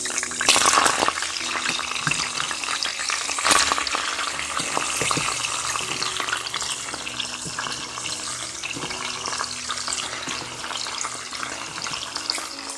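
Freshly sliced onions fry in a pot for a corned beef stew with a loud, continuous crackling sizzle. A few sharp clatters from stirring come early, and no one talks.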